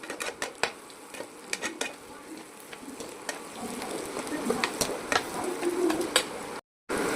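Onions frying in a pan for tomato thokku, stirred with a spatula that taps and scrapes in scattered clicks over a steady sizzle that grows busier, with a brief dropout of sound near the end.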